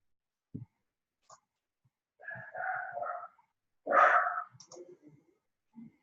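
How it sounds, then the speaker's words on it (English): Pet dogs indoors give a couple of short barks and whining yelps, fairly faint and intermittent with quiet gaps between them. "I apologize for my dogs barking in the background because I just got a package from one of my favorites"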